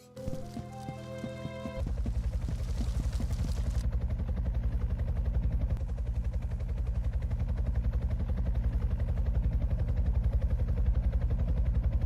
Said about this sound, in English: As we sat waiting for the helicopter to pass, we continued chatting.